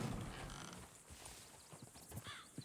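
Horses clip-clop in the open world of Red Dead Redemption 2, a faint, uneven string of hoof knocks over a soft ambient bed, with a brief snort or whinny-like sound and no clear speech.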